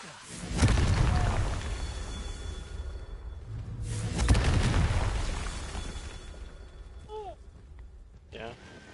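A Confringo fire spell bursts twice in Hogwarts Legacy, each blast a loud low boom with a rumbling tail, the second about four seconds after the first, followed by quieter ambience and short bits of voice.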